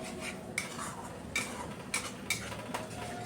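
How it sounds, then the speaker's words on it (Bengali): A spoon scraping and tapping a pan as spices and tomato paste fry for an egg dish, with several distinct clinks over a low, steady background hiss. "এবার টমেটো দিয়ে আরও কিছুক্ষণ কষাচ্ছি যাতে টমেটোর কোনো কাঁচা গন্ধ না থাকে।"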